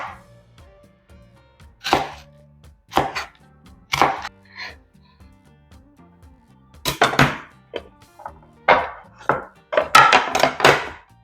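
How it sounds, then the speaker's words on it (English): Knife slicing a vegetable into julienne strips on a cutting board, a series of crisp, close knocks that come in uneven clusters, some single and some in quick doubles, with quiet gaps between them. "I'm just going to do a simple julienne cut."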